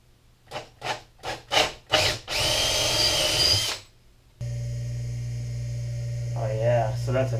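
A power drill bores into wood for a homemade skateboard coat and hat rack: five short trigger bursts, then one sustained whine. A steady, close motor-like hum follows.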